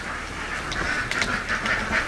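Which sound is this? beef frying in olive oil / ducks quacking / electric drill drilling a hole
ducks quacking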